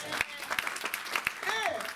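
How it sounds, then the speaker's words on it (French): A church congregation claps and cheers for the Lord, scattered applause mixed with voices and a rising shout, close and lively over a short burst. "Donnons une acclamation au Seigneur."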